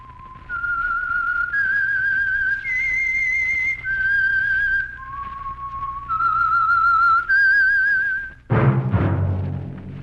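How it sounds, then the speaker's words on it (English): Someone whistles the theme tune that signals the Signal Oil Program radio show The Whistler, a clear solo melody of held, rising and falling notes, followed by a sudden loud burst of music at the end. "That whistle is your signal for the Signal Oil Program, The Whistler."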